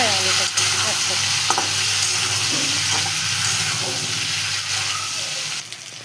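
Eggplant and potato pieces fry together in a pan, giving a steady close sizzle with occasional stirring clinks.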